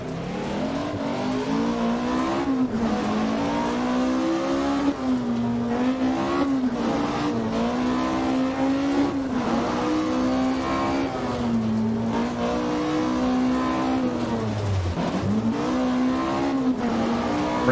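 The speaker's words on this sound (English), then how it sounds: "Braking in the middle of a straightaway." A rally car in Richard Burns Rally driving a straightaway, its engine drone steady and loud, then dipping sharply as it brakes near the end before picking back up, with no talk over it.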